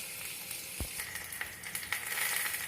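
Ingredients sizzling in hot oil in a pan while cooking dal fry, a steady crackling fry with one brief low thump of stirring, close and continuous, with no talk.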